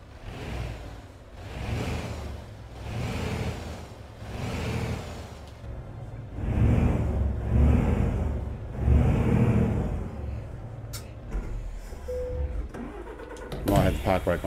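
A truck engine in the video game Euro Truck Simulator 2 runs quietly as a low rumble beneath someone talking throughout, with a short rise in level partway through.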